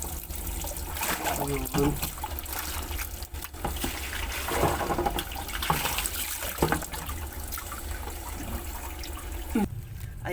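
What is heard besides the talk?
water running while rinsing soapy laundry items in bathroom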